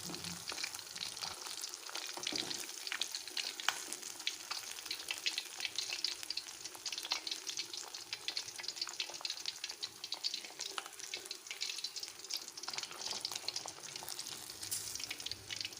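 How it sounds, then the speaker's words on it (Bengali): Koi fish frying in hot mustard oil give a steady, close sizzle and crackle that runs unbroken for the whole stretch, with faint stirring noises and no talk. "তেলটা গরম হলেই মাছগুলোকে ভেজে তুলে নেব"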